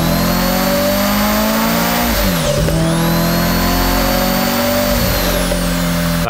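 Car engine in the Japanese Drift Master racing game, a grippy time-attack build, revving loud and steady throughout, pitch dipping around the middle as it shifts or slows and then climbing again, with no talk over it.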